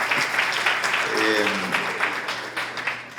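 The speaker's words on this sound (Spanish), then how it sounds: "Un fuerte aplauso" Steady applause rises from an audience at a business talk on raising investment in Ecuador, with a brief voice heard over the clapping partway through.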